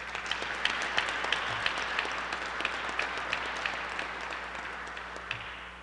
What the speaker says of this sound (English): let's give Dr. Ron a big round of applause